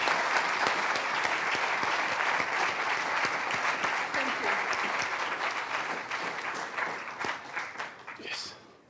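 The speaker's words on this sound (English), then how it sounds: "let's give a round of applause to Milka" Audience applause at a conference plenary on indigenous peoples and globalisation, a dense sustained round of clapping that gradually thins and fades toward the end, with some voices mixed in.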